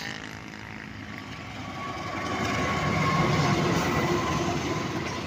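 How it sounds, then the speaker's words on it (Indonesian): A train rolls through Cimekar station, a steady broadband rumble of wheels and rail that swells toward the middle and holds near and loud, with no talk over it. "Kembali datang kereta dari arah barat menuju timur."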